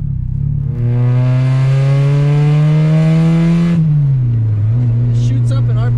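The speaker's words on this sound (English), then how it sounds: "It shoots up in RPMs a lot faster with that 8-pound flywheel" A Mazda Miata with a new aftermarket clutch and an 8-pound flywheel revs up quickly, holding a loud, steady engine drone before the pitch drops as it falls back to idle; a faint voice is heard near the end.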